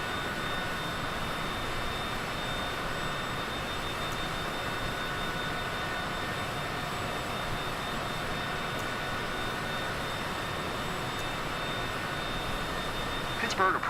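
A Cessna C25C jet engine in Microsoft Flight Simulator gives a steady, unbroken cockpit drone at an even level throughout.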